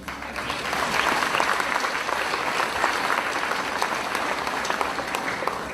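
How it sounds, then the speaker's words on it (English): Steady, dense applause from a large audience at a school promotion ceremony, sustained and fairly loud throughout with no talking. "another round of applause"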